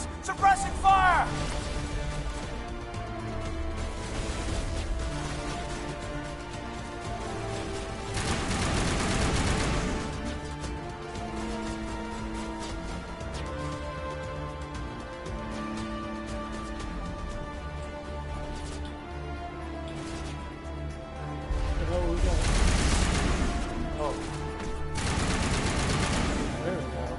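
Suppressing gunfire in Mass Effect Legendary Edition, sharp clusters of rapid shots breaking out in two heavy bursts over an ongoing game soundscape and musical score, with voices speaking between them.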